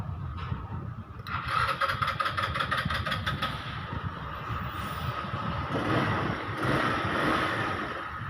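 A Rusi Gala scooter running after an ignition conversion, its small engine idling steadily and close by with a mechanical rattle and slight rises and dips in speed, with no talking over it.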